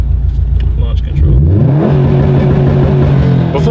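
A 2019 Subaru STI's engine revs up hard on launch control, climbing in pitch and holding a loud, steady high-RPM drone close by, with a voice talking briefly underneath.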